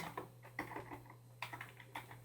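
Computer keyboard being typed on to enter a command, a quiet, close run of irregular key clicks over a low steady hum.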